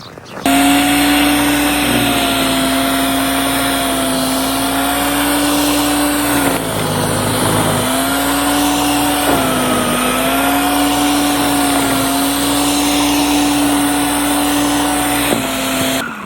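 A snowblower runs loud and close as it chews into a deep snowdrift, its engine droning continuously with brief dips in pitch under load.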